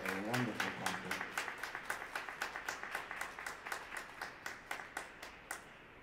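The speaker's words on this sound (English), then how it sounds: "I think we should give them one more round of applause for a wonderful concert." Audience applause after a student concert at the Glenn Gould School of Music, a steady round of clapping from a seated crowd that thins toward the end into a few separate claps.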